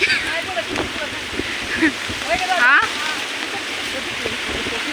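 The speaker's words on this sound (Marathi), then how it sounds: "तर पाऊस लय यायला लागलाय बघा आमच्याकडला." Steady rain hisses and patters throughout, with someone speaking intermittently over the downpour.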